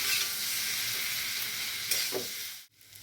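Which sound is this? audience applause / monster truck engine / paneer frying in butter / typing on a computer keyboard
paneer frying in butter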